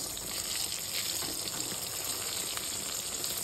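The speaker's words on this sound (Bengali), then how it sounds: "এই যে বেগুন ভাজা হচ্ছে এখন" Eggplant slices frying in a pan, a continuous close sizzle and hiss with faint crackles, steady throughout with no talk.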